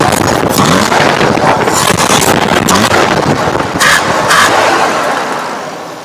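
Toyota Kijang 7K engine with a Grand Extra carburetor revved hard, a loud, rough, sustained roar close up with wind buffeting, easing off slightly toward the end.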